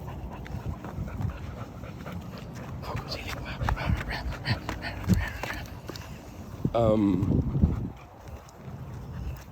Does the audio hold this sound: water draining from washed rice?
no